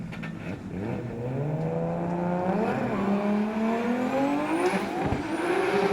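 A drift car, the Black Bull Liquor Q Tyres machine, runs out on track at Wellington Speedway during D1NZ Pro-Championship qualifying, its engine note rising and revving steadily and loud, with a brief tire squeal near the end.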